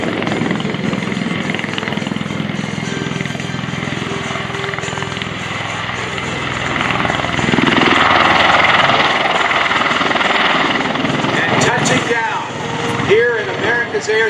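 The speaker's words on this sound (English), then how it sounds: "the flight crew and those aboard the Osprey. Setting up for its landing." MV-22 Osprey tiltrotor setting up for landing at an air show at MCAS Cherry Point, a loud, steady rotor and engine roar that swells midway, with crowd murmur beneath.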